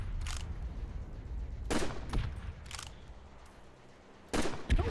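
Gunfire in Call of Duty: World at War custom zombies on the PC Military Base map: several sharp, loud bursts of shots separated by quieter gaps, with a double burst at the end.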